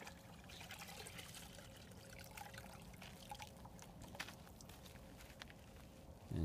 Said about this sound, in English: He's washing the bike.